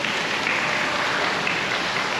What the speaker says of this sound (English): I'm hearing some applause, so I believe that's Pascal's white card